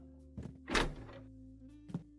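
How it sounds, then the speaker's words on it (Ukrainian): A door is pushed shut indoors at closing time, giving one soft, thudding knock with a little latch noise, followed by a fainter second tap a moment later in an otherwise quiet room with a low machine hum. "Чекайте, двері зачиню про всяк випадок."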